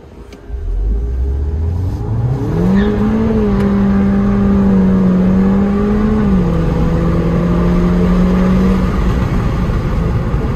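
A Mini Cooper S engine held at high revs with its turbo whining, climbing sharply in pitch after a low start, then a long sustained steady drone with a small step down near the end, loud and close with no talking.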